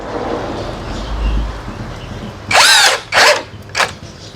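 Mazaru cordless drill driver whirring in three short bursts, the first longest, with a rising whine; quieter background rumble before the bursts begin.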